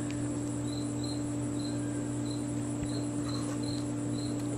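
Crickets chirping in short regular pulses over a steady background hum, even and unbroken throughout.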